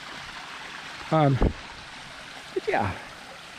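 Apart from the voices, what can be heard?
small stream with water running over little rapids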